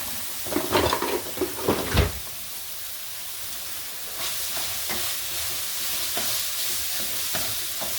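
Onions and ginger frying in a skillet over medium heat, a soft steady sizzle with several sharp stirring clatters and scrapes near the start, then quieter hissing with occasional taps.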